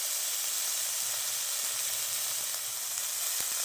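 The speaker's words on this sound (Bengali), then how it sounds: "মশলাগুলো এবার ভালো করে আমি কষিয়ে নেব" A paste of ground cumin and coriander sautés in a hot pan with a steady, dense sizzling hiss throughout, close and even, with no talk.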